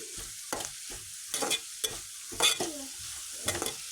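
Sliced onions, half-sautéed with salt, are stirred in a pan. A series of distinct scraping strokes rises over a steady sizzle, close up and without speech.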